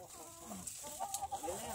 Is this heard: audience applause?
no